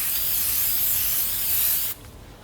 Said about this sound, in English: We're going to take our Stoners tar and sap remover, and we're just going to spray it right onto the tire.